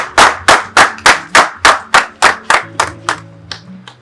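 Rhythmic hand clapping, about a dozen loud, evenly spaced claps close by, slowing and fading toward the end.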